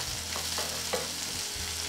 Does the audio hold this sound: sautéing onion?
yes